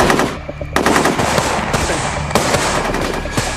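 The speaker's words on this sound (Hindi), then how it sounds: "मेजर अवस्थी की टीम काउंटर फायरिंग कर रही है" Dense, loud bursts of automatic gunfire and rapid shots from counter-firing during an action movie firefight, packed into continuous volleys with brief gaps and no clear speech.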